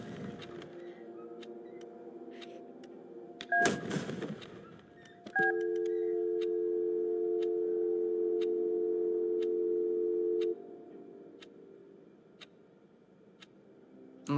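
In the horror video game LUTO, a telephone is dialled toward the police: faint regular ticks run throughout, broken by short dial tones and a noisy burst, then a long steady tone that stops.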